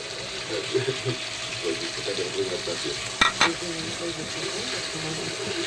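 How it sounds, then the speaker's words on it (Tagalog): Tomatoes sautéing in a pan for fish sinigang in miso, a steady close sizzle with scraping stirs and a sharp metallic clack midway, while someone talks over the cooking. "Pagain natin ng konting kamatis"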